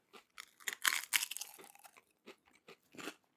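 Oversized Canadian Takis rolled tortilla chips crunch loudly in bursts of close-up chewing, a rapid cluster of sharp crackles followed by a few slower, separate bites with pauses between.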